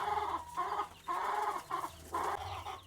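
Chickens cluck in several loud, close bursts separated by brief pauses, a busy, steady chatter of fowl with no one talking.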